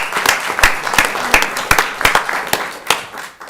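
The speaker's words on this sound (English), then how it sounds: "So I don't give her a round of applause" Applause from a city council meeting audience for an award winner: a small group claps close by, with distinct sharp individual claps standing out from a thinner patter that tapers off.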